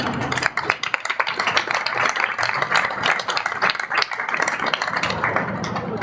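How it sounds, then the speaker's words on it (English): A crowd applauding with dense, steady clapping for several seconds at a grand opening, moderately loud and continuous. "all of you, you deserve a huge round of applause"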